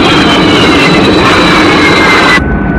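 Loud, steady roar of a jet aircraft engine from a 1967 Captain Scarlet episode, a broad continuous rush with a high whine that cuts off abruptly near the end, leaving a quieter rumble.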